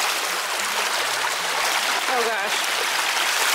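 Shallow, ice-cold woodland river rushing steadily and close by as someone wades across it, a broad constant wash of flowing water with a brief exclamation from a voice partway through.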